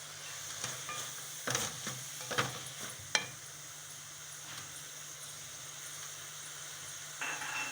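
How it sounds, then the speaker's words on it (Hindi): Turmeric, salt, red chilli powder and dried coriander fry in a pan for minced mutton keema with a quiet steady sizzle, under a few sharp spatula clicks and scrapes early on. "इसको हम थोड़ा सा भून के मसालों को थोड़ा सा फ्राई कर लें"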